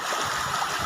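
Rainwater rushes across a road into a field, a steady close gurgling flow with no other sounds.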